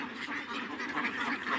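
Several ducks quack busily and continuously at a duck-rearing spot, a dense overlapping chorus of close, loud calls with no talking.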